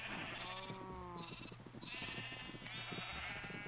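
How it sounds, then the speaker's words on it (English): Several Minecraft sheep bleat repeatedly in a farm pen, with overlapping wavering baas in quick succession over a dense background. "I'm trying to get these damn sheep."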